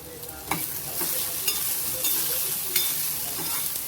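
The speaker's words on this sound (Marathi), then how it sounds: "याच्यात थोडंसं आपल्याला तूप कमी पडतंय तर आपण तूप थोडंसं घालूया" Grated fresh turmeric stirring in ghee over a low flame for a halwa, a steady soft sizzle with a few scraping stirs at intervals, close and continuous with no talking.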